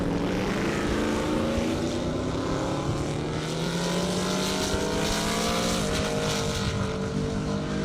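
A powerful Camaro race car engine roars at full throttle on a half-mile airstrip course, its pitch climbing steadily as it accelerates hard, loud and continuous throughout.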